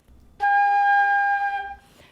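A flute sounds a single G, held steady and clear for a little over a second, alone with no talking.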